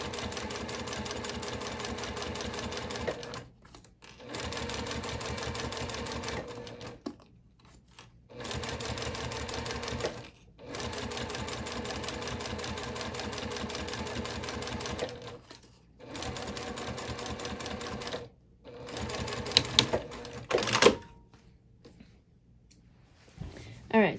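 A domestic sewing machine stitching a wristlet circle bag, running in steady bursts of rapid needle clatter broken by short pauses, close and fairly loud, ending with a few clicks and handling noises.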